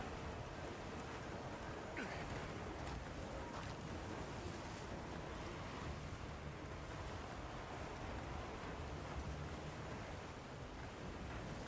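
Heavy rain downpour in the video game Monster Hunter Wilds, a dense, steady roar of rainfall that holds at the same loudness for the whole stretch, with no voices.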